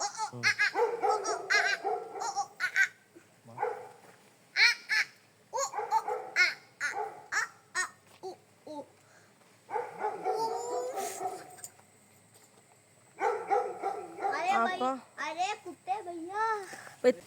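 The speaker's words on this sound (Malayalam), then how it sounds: "ഇവന്മാരെ കണ്ടോട്ടാണ് പട്ടി കുറയ്ക്കുന്നത്." In a rainy-season house setting, a dog barks in repeated bursts at nearby monkeys. The barks are scattered through the scene and mixed with people talking and some laughter.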